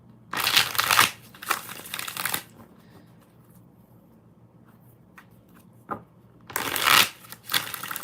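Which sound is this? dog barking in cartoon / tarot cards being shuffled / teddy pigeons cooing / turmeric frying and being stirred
tarot cards being shuffled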